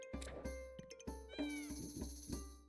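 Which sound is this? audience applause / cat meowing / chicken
cat meowing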